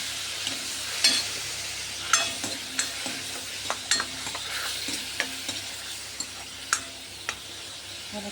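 Garlic, onion and tomato paste sautéing in a pan while being stirred, a soft continuous sizzle broken by sharp scraping and clinking strokes of a spoon against the pan at an uneven rhythm.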